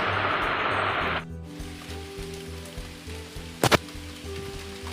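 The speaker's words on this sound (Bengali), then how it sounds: "এখন হালকা হালকা বৃষ্টি পড়ছে" Light rain falls after a heavy storm: a steady, close hiss of rain for the first second or so, then a much quieter patter over a low hum, with one brief sharp knock near the end.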